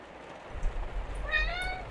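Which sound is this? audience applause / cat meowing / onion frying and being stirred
cat meowing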